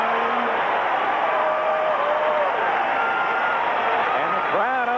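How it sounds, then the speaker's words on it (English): A stadium crowd at a 1980 Raiders–Chargers football game roars steadily for the rookie quarterback from Brigham Young, a broad, sustained wash of cheering heard under a commentator's voice. "And the crowd on their feet cheering the rookie from Brigham Young."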